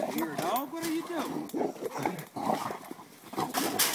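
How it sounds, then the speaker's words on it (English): Dogs bark, yelp and snarl in a chaotic scuffle close by as they seize a trapped hog by the back legs, with people shouting over the commotion. "Dogs are in there with the hog."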